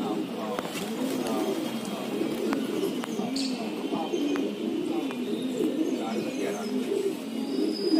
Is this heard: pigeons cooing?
yes